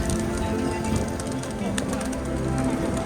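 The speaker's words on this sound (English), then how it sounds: "there is a lot of pigeons in this area" A large flock of pigeons fed by tourists on the main plaza at Batu Caves near Kuala Lumpur, Malaysia, keeps up a dense, continuous murmur of cooing and fluttering amid crowd noise.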